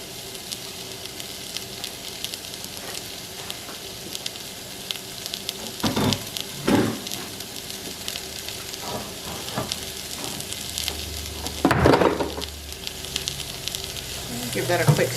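Chopped shallot and spring onions fry in olive oil over high heat, a steady close sizzle punctuated by a few louder bursts of stirring and pan clatter.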